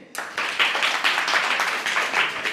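Applause from a government school classroom of students in Uttar Pradesh, a burst of many hands clapping that starts abruptly and carries on steadily and fairly loud throughout, with no voices over it.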